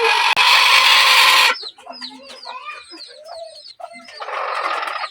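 A broody hen clucks in a chicken coop, a burst of loud close rustling or flapping first, then a run of soft, irregular clucks and murmurs, ending in another noisy flurry.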